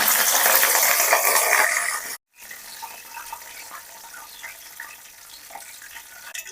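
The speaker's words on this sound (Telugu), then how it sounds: "ఒక 3 కరివేపాకు రెమ్మలు కూడా నూనెలో వేసుకుందాం" Curry leaf sprigs dropped into hot oil for a village-style dondakaya (ivy gourd) fry, giving a loud crackling sizzle that cuts out briefly, then settles into a softer steady frying hiss.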